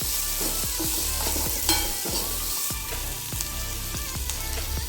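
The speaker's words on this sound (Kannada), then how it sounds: "ಈಗ ಈರುಳ್ಳಿ, ಇದು ಸ್ವಲ್ಪ ಕೆಂಪಗಾಗುವವರೆಗೂ ಬೇಯಿಸ್ಕೊಳ್ಬೇಕು." Onions frying in a pan while being stirred, a continuous close sizzle broken by repeated scraping and knocking strokes of a spoon, with no one speaking.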